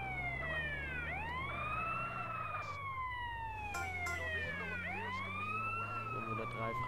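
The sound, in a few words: ambulance siren in GTA San Andreas video game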